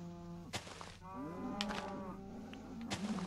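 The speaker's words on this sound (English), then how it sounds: "Let's make way for our cows." Cows mooing in Minecraft on Xbox One: several long, drawn-out bovine moos overlap one after another, fairly close and clear, with brief clicks between them and no talking.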